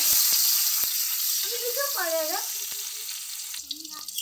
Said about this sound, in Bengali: দিয়ে পেঁয়াজগুলো দেওয়ার পরেও আবার লাল লাল করে ভালো করে আমি এখন ভেজে নেব।